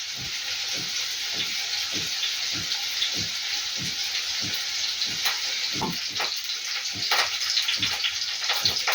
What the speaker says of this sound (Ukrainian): ми посмажемо наш хек.